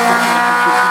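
An Alpine 110 race car at a hill climb gives a brief, loud, sustained engine note at high revs, steady and close.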